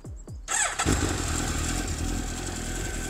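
A starter whirs in two short bursts, then a sport motorcycle engine fires up with a loud bark and settles into a deep, bassy idle.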